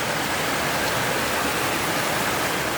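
Water sprays from a pipe across a makeshift hiking path in Albania's Osum Canyon, a steady close hiss and rush of spray that continues unbroken with no voices.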